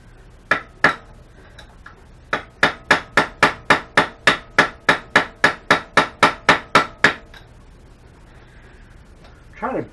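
A hammer strikes a bolt head on a Yamaha R3 motorcycle being restored, a pair of sharp metallic blows followed by a long steady run of about eighteen evenly spaced, loud ringing hits, then silence.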